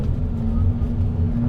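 Lamborghini LM002 engine pulling hard after a shift into third, a loud, steady low rumble with a strong engine drone that holds even and close throughout the short burst.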